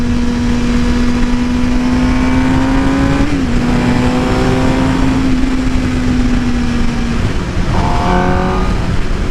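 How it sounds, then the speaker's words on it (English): A loud, continuous Suzuki GSX-R 750 motorcycle exhaust roar revving steadily, its pitch holding then dipping slightly before rising again, with a higher rev toward the end. "I wonder if this is stock exhaust, because, I mean, listen to that."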